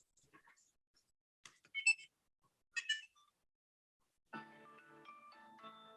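A Tile Bluetooth tracker rings with a short electronic chime melody: a few bright, separated tones and then a sustained, brighter tune near the mic in an otherwise quiet room.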